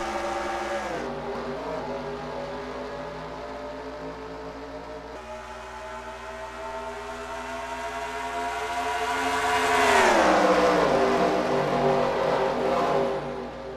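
Racing truck engines roar in a Coors Light Truck Series video game race at Las Vegas. They drone steadily with sustained high revs, then swell louder as a close engine climbs and falls in pitch, with no talk.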